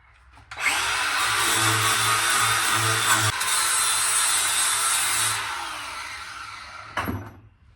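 A handheld power grinder works the edge of a lawn mower blade during sharpening, a loud steady abrasive whine holding for several seconds before cutting off, then a brief final burst of grinding.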